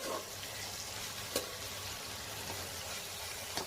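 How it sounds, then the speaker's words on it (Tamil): Finely chopped onions frying and sizzling in a pan of hot oil, a steady close hiss with a couple of brief stirring scrapes, no voices. "ஃப்ரை ஆனோடனே வெங்காயம் போட்டுக்கிறேன்"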